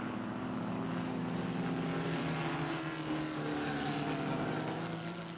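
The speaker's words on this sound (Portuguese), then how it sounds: "Olha só a escapada que deu o carro do Vetter, carro 56" Race cars at the 500 Milhas endurance race, a steady dense engine roar with a droning harmonic hum, heard continuously from a distance without pauses.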